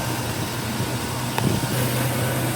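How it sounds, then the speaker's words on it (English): A car engine idles very low with a steady low hum and a constant drone, with a brief clunk or bump partway through. "It's idling, but very low."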